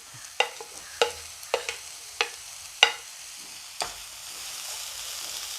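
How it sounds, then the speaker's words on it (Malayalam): Chopped onions go into hot oil for an eggplant curry, with a run of sharp spoon scrapes against the pan over a soft frying sizzle, close and without speech. "രണ്ട് വലിയ സവോള എടുത്ത് കൊത്തി അരിഞ്ഞു വെച്ചിരിക്കുന്നതാണ് കേട്ടോ ഇതും കൂടി ഒന്ന് ഇട്ട് കൊടുക്കാം"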